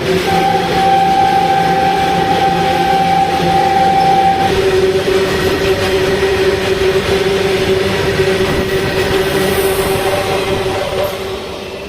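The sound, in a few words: goods train passing at railway crossing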